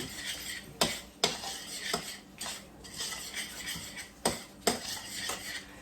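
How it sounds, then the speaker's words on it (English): A flour roux being stirred in a pot for beef pot pie, with repeated sharp clanks of a utensil against the metal pan over a steady sizzling hiss, close and fairly loud. "this a nice stir, and basically we're just making a roux is what we're doing"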